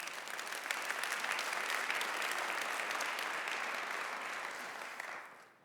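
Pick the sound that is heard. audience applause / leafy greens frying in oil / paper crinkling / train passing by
audience applause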